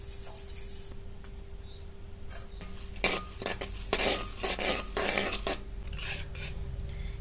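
Sugar stirred into hot ghee in a kadai, with metal utensil scrapes and clinks bunching into a busy stretch midway, over a steady low kitchen hum; no talk.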